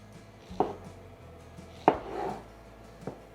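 A knife cuts through small peaches on a cutting board in a home kitchen, giving three separate, fairly quiet chops spaced a second or more apart over a soft background hum.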